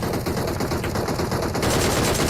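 Rapid automatic gunfire in PUBG Mobile during a competitive esports match, a dense continuous burst of shots that grows louder toward the end, with no voice over it.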